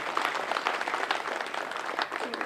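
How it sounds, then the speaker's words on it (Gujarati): Audience applause for participants on stage at a district-level school cooking competition, a steady, dense clapping from a crowd lasting throughout without a break. "આપણે બધા એકવાર જોરદાર તાળીઓ સાથે"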